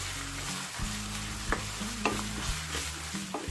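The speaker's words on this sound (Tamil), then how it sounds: "இந்த பச்சை மிளகாய் பேஸ்ட் நீங்க சேர்த்ததுக்கு அப்புறமா கொஞ்ச நேரம் நல்லா இந்த மாதிரி நீங்க வதக்கி விட்டுறணும்" Ginger garlic and green chili paste sautéing in hot oil in a pan during egg biryani cooking, with a steady low sizzle under repeated stirring scrapes and a few sharp utensil taps, close by and with no talk.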